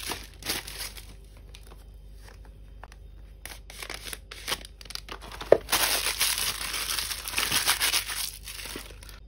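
Two Narciso Pure Musc perfume bottles being unwrapped, with close, crisp crinkling and tearing of packaging in irregular bursts that grow busier and louder toward the end.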